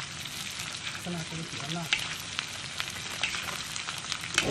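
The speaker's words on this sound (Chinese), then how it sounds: "爆香鸡腿" Chicken legs stir-fry in hot oil with a steady, close sizzle and crackle, while a brief spoken phrase sits over the frying.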